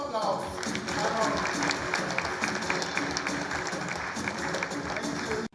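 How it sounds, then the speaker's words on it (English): A sustained round of applause from the audience at the launch of the Kenya Climate Innovation Center strategic plan, steady and fairly loud with crowd noise and some voices, cutting off abruptly at the end. "A round of applause."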